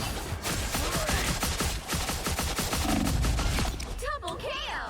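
Gunfire in a ranked shooter game: rapid overlapping shots and bursts, loud and continuous, with a voice talking over part of it.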